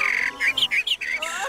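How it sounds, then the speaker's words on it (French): Small birds chirp and tweet in a quick series of bright, high calls, fairly close and clear, with no other sounds around them. "on écoute le chant des petits oiseaux"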